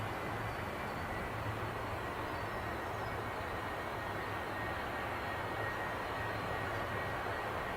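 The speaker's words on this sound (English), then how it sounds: "the left engine will still be running" An aircraft engine keeps running after landing following a bird strike, a steady, even broadband roar with a low hum that holds at a constant, moderate level from start to finish, with no voices.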